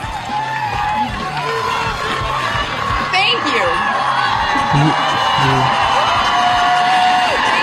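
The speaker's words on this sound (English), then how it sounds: "The applause. They load these audiences up." A studio audience on a talk radio show cheers and whoops loudly, a continuous crowd roar with shouts and yells layered over it, while people talk close by.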